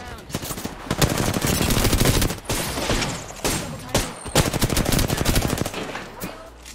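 Rapid automatic R-99 fire in Apex Legends rattles in sustained bursts with brief pauses, loud and close, and a voice is faintly present under the shooting.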